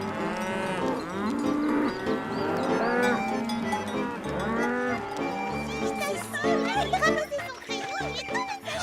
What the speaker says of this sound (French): Parfois, c'est elle qui rentrait les vaches.